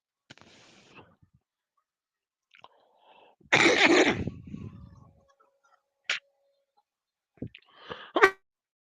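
A single loud, close sneeze bursts out after faint scattered sounds, followed by quieter breathy rustles and a couple of sharp clicks.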